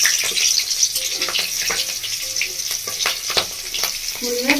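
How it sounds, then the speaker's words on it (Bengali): Chopped green chillies fry in oil left over from frying fish, giving a bright, continuous sizzle and crackle with scattered pops and stirring scrapes, close and fairly loud throughout. "মাছ ভাজা তেলের মধ্যে আমি দিয়ে দেবো এবার কাঁচা লঙ্কা কুচি।"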